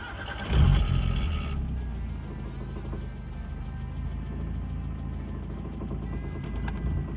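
A Mazda Miata NA6 fitted with an Antigravity ATX-20RS jump-start battery starts with a brief crank and a loud catch. The engine then settles into a steady, close idle with slight revving, and no one speaks.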